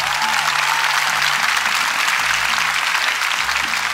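Audience on a Spanish-language interview show applauds a 24-year-old Colombian musician, a loud, even wash of clapping throughout, with low musical tones beneath.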